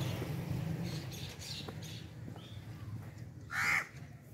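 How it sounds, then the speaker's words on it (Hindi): Crows caw in a rural village among old trees, one loud nearby call standing out near the end over a steady low outdoor rumble and fainter scattered bird calls. "तो जितने भी परिंदों की चहचहाहट है ये सिर्फ गांव के अंदर ही मिल सकती है"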